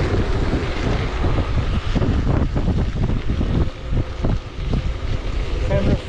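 Strong, steady wind rushes and buffets the microphone while riding at speed, a loud broadband roar that fills the whole stretch with brief dips in the buffeting.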